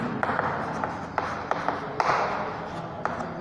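Handwriting on a surface, a continuous scratchy stroke sound broken by light taps as the pen lifts and lands, close and fairly loud with no talking.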